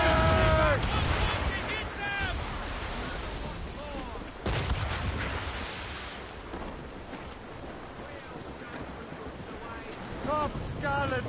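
A ship's cannon broadsides in Assassin's Creed Rogue, loud blasts over ocean waves and creaking rigging, with crew shouting orders throughout.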